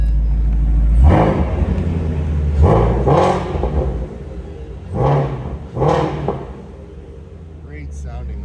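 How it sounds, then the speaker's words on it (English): A car engine idles with a deep exhaust rumble, then gets revved several times in short bursts, each rising roar settling back to idle. "Great sounding motor. Love the exhaust on this."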